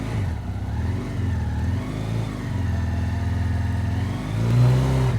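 A Ural Neo 500 sidecar motorcycle engine revs repeatedly, loud and close. The steady mid-pitched drone rises and falls through several throttle blips and climbs to a higher whine near the end.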